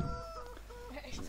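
Chickens cluck in the Landwirtschafts-Simulator 2013 farming video game, a few short clucks over soft game music while someone talks.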